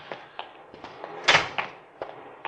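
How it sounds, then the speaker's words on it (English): A car thief works at a Cadillac's door in an old radio drama: a handful of scattered metallic clunks and knocks, one sharper louder thud midway, close and without voices. "He's forcing the door."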